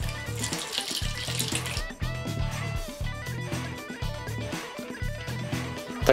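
Water is poured into a tub of venison sausage mixture with meat, spices and cooked mustard seed, a steady close splashing pour that runs unbroken for about six seconds.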